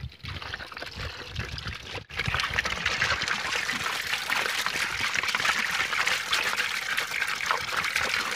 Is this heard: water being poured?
yes